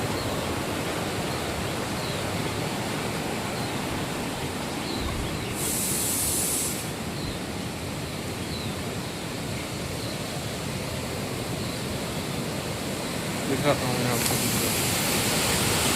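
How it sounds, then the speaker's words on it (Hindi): A Sahastradhara hillside waterfall in Uttarakhand sends fast-flowing water past in a steady, close roar that never lets up, while someone talks briefly above the rush. "बहुत तेज पानी जा रहा है इधर।"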